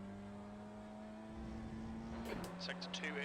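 A race car engine in the iRacing sim makes a steady, droning whine at a moderate level. Commentators talk over it throughout, and some brief higher tones come in near the end.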